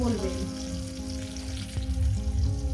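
Ground spice paste of cumin, ginger and onion fries in oil in a pan for a rohu fish and potato curry, a dense, continuous close sizzle with a low steady hum underneath and a brief clatter midway.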